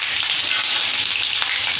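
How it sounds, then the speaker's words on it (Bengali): Bay leaf, dried red chilli and panch phoron splutter in hot oil, making a dense, steady crackling sizzle close by with no voices. "বলো কি কি ফোড়ন দিলে? তেজপাতা, শুকনো লঙ্কা, পাঁচফোড়ন। সব তো আমাকে ছিটিয়ে দিচ্ছে গো।"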